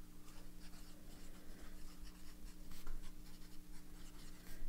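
Broad nib pen moving across paper with blue ink, a steady scratchy writing sound heard up close with no talking.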